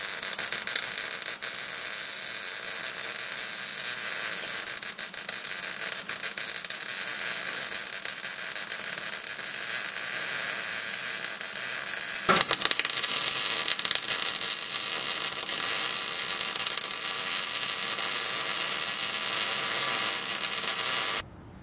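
Steady crackling, buzzing arc welding during a 14 bolt axle swap with a disc brake conversion on a 1979 Jeep Cherokee Chief, running close and continuous for about twenty seconds, with a short break and a slightly louder stretch after the midpoint.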